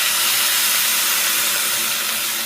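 Water added to a hot pan while cooking ridge gourd peel, giving a continuous broadband steaming hiss that holds at a steady level throughout with no talk.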